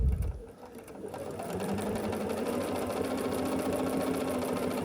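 A sewing machine stitches a quilt block of half-square triangles, starting with a short clatter before settling into a steady, even mechanical whir close up, with no talking.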